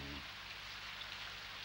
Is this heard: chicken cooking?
no